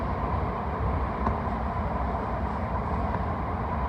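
A TfL Rail train between Paddington and Heathrow hums and rumbles steadily from inside the carriage, a continuous even roar with no voices.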